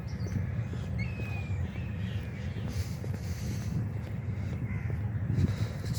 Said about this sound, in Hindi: चिड़ियों के चहचहाने की आवाज़ें आ रही, परिंदों की आवाज़ें आ रही।